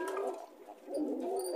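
Silver Lahori Sherazi pigeons give soft, low cooing calls close by, a short murmuring burst with a faint higher chirp near the end.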